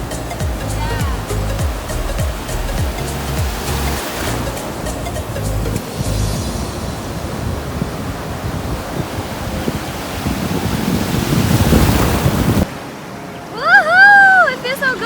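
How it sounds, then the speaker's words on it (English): Big ocean waves crash and rush steadily onto a beach in the Netherlands, loud surf with wind buffeting the microphone, ending with excited voices shouting nearby. "Oh my God, these are big waves."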